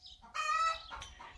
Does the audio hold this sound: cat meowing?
no